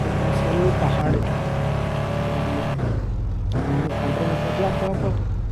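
A car in the video game Car Seller Simulator Dealership drives with a steady engine drone and brief revs and shifts, heard under someone talking.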